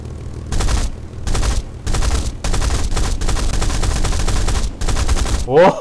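Repeated long bursts of rapid automatic machine-gun fire in the game War Thunder, loud and close, separated by short gaps, ending in a sharp metallic clatter.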